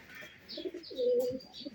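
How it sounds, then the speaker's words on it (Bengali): A young adult male pigeon coos in a soft, close, throaty run of low notes that swells briefly in the middle, with no voices over it. "এই যে খুব সুন্দর কোয়ালিটিফুল একটি নর কবুতর।"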